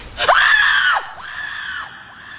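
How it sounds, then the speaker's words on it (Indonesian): A woman screaming in a film, one long piercing shrill cry followed by a second wavering scream, loud and alone with no talk over it. "Dan itulah teriakan yang didengar oleh Hector 2"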